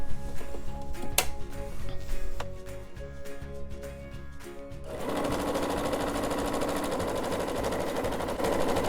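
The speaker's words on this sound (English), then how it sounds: "I'm just going to go and sew all the way around" A sewing machine stitches around the edge of an outdoor pillow, close and loud, starting in short stop-start bursts and then running in one steady rapid drone.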